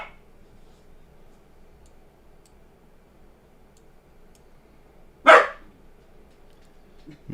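A dog in a house lets out a single sharp bark, loud against a quiet room with a faint ticking hum in the background.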